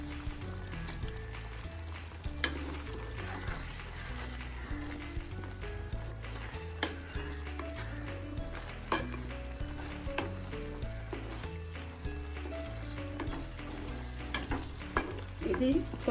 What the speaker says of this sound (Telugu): ఇప్పుడు చికెన్ వేసేసుకోవాలి